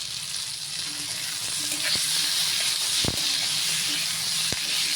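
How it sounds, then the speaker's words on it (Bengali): Chopped tomatoes frying in a pan for an egg dish, a steady bright sizzle with a few soft utensil knocks and scrapes. "এটা 5 মিনিট একটু ভেজে নেব।"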